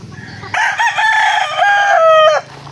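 Gamefowl rooster on a game farm gives one loud, close crow lasting about two seconds, rising then holding before cutting off, with faint background clucking.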